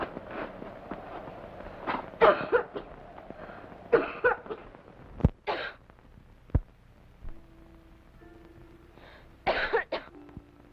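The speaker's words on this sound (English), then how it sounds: "It's only the cough. I've always had it." A girl coughs repeatedly at night in a dormitory, in a period drama set at a strict girls' school, with several separate harsh bursts spread through the scene and quiet pauses between them.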